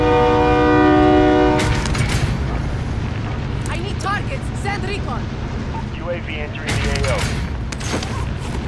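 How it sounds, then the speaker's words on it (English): A train horn blares loudly for about a second and a half in the Call of Duty: Modern Warfare video game, followed by rumbling rail noise, scattered bursts and faint game sounds. "Now I'm looking for the train. I see the train station."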